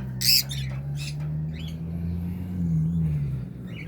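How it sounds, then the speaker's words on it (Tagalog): Harsh squawks from various kinds of small birds ring out several times over a low, constant rumble of background noise, some close and loud, others fainter. "Yung mga iba't ibang klaseng ibon na nandito"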